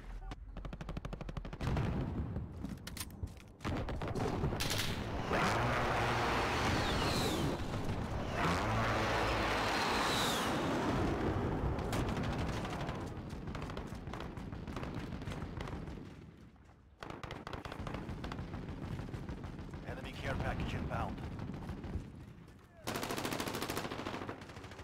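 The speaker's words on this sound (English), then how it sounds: "Enemy precision airstrike." A precision airstrike in the video game Call of Duty: Modern Warfare, with sustained loud rumbling blasts and dense gunfire-like bursts lasting over twenty seconds, briefly dropping out near the middle and end.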